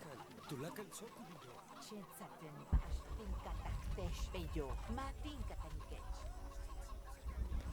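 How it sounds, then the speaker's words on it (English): Chickens cluck in a swampy area of the Shadow of the Tomb Raider video game, brief clucks heard faintly beneath a voice. "Chickens."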